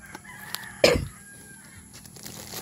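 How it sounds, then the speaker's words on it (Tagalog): A rooster crows once, close and loud, in a rural mountain setting, with faint chicken clucks and sparse bird calls before and after. "di ba madaming pakalat-kalat dito na manok?"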